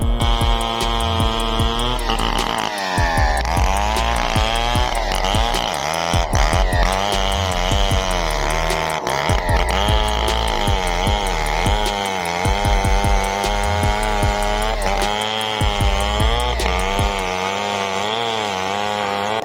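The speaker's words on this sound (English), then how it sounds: "Watch this skilled man cut through a tree using only a chainsaw." A chainsaw cutting through a standing tree roars loud and close throughout, its engine pitch rising and falling as the chain bites into the wood, with no talking.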